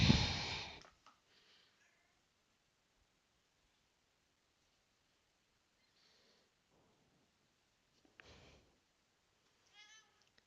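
A pet cat gives a few soft, faint meows and breathy sounds in a quiet room, one louder call at the start and scattered brief ones later.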